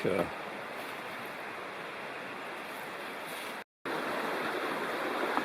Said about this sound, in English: This is the Ball River coming down